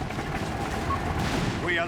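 Machine gun fire in a Company of Heroes 3 multiplayer battle, rapid gunfire bursts crackling over dense mixed battle noise, with a voice talking throughout.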